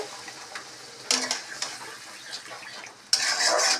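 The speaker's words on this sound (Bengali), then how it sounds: "এখন একটু জল দিয়ে দিচ্ছি, একটু রস রস হবে" Water poured into a pan of frying ridge gourd and potatoes, giving two quiet bursts of hissing sizzle with soft clinks of a utensil between them.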